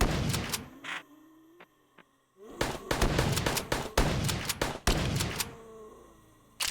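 Dual-wielded akimbo guns firing in VRChat, a burst of sharp shots followed by rapid repeated gunfire in dense clusters, loud and close, with brief pauses between volleys.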